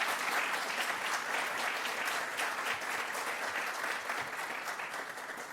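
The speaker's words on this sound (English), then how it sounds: "we give chairs a round of applause" Commencement and hooding ceremony audience applauds the dissertation chairs, a steady, full round of clapping from a large crowd that continues evenly and fades a little near the end.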